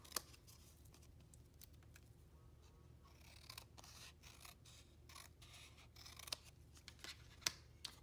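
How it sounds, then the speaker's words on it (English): Scissors cut rounded corners on cardstock, producing quiet, scattered snips and small rubbing sounds at irregular intervals, heard alone at close range. "you can take some scissors and give it a little bit of a rounded"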